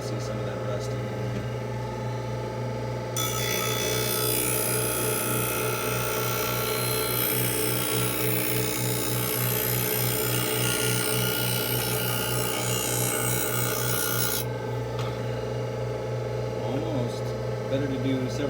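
An ice skate blade is ground on a sharpening wheel, a loud, broad, gritty hiss rising for about eleven seconds over the steady motor hum of the grinder, then dropping back to the running motor alone.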